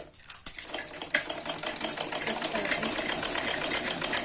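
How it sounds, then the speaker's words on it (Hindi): A sewing machine stitches fabric for a suit, starting with a few taps and then settling into a fast, even, rhythmic clatter, close and continuous. "इससे थोड़ा दूर स्टिचिंग करते हुए हम इसे वापस ऊपर की तरफ लेके जाएंगे"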